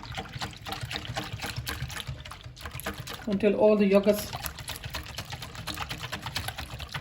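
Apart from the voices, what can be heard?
whisking yogurt, milk and water in a bowl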